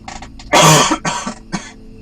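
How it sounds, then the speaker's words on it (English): A single harsh, loud cough up close, framed by a few soft throat-clearing sounds and small breathy noises. "I could feel that cough coming on and didn't want to cough right into the microphone."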